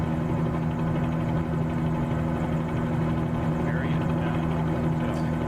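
Loud, steady aircraft engine drone with a constant low hum runs throughout, heard from inside a cockpit in Microsoft Flight Simulator 2020 on a general aviation flight.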